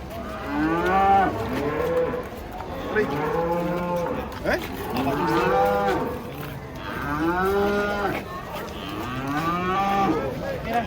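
A cow moos repeatedly and loudly, several long drawn-out lowing calls in a row with short pauses between them.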